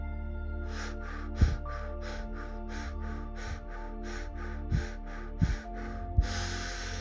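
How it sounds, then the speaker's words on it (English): Quick, rhythmic forceful breaths of a breath-of-fire breathing exercise, about a dozen sharp puffs in a steady pulse, ending in a longer exhale; close and fairly quiet. "do a gentle fire breath. Breathe in and out with me and listen to the sound of the breathing"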